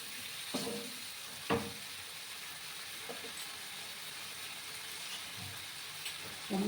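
Green peas and potatoes fry in a pan for a spicy vegetarian alu koraishuti kosha, a faint steady hiss and sizzle with a few soft stirring knocks, with no talking.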